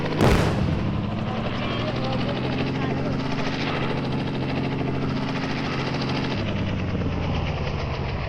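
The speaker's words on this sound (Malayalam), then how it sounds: "നമുക്ക് ഹെലികോപ്റ്റർ എടുക്കാം." A helicopter in the mobile game Indian Bike Driving 3D thrums with a steady rotor drone after a sharp burst at the start, continuing loud and even throughout.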